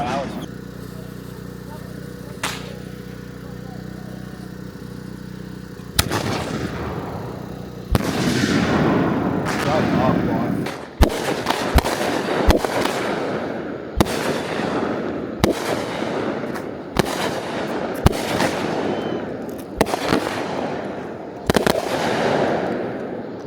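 Fireworks burst repeatedly, sharp bangs at irregular intervals followed by crackling tails, after a quieter opening; fairly loud and close.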